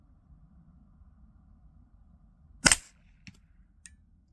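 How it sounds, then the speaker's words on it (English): One sharp report from a suppressed AR rifle with a 16-inch barrel and R9 silencer firing 9mm subsonic ammunition, a single close crack followed by two faint small clicks over quiet background. "So they're going a little slower than what they say on the box. It's definitely subsonic. It doesn't sound bad at all."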